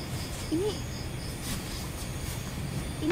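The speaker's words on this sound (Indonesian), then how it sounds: "Itu suara jangkriknya beneran dari streamnya dia," Crickets chirping at night, a faint steady high-pitched trilling over background hiss, with an occasional brief rising electronic tone.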